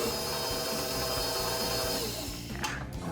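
A stand mixer with a paddle attachment beats gluten-free chocolate cake batter, giving a steady, fairly quiet mechanical whir with a faint rhythmic knock that runs unbroken throughout.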